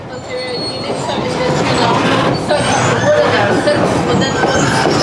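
A train rumbles steadily along restored track, loud and close, with wheels grinding and squealing faintly under a continuous roar.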